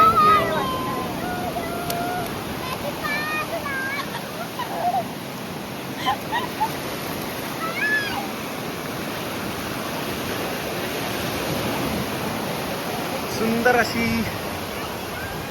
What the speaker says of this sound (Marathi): हा लाटांचा आवाज, ही हवा मस्त वाटते.